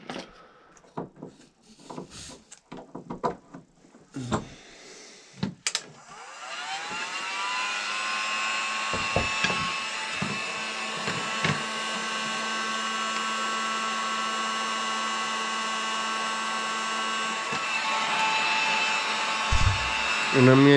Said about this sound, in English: I'm going to plug in my heat gun.